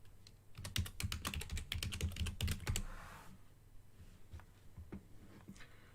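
Fingers type a login password on a computer keyboard in a quick run of closely spaced clicks, followed by a few scattered keystrokes, all quiet and near.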